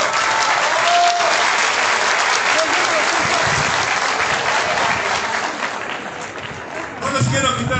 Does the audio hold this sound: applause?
yes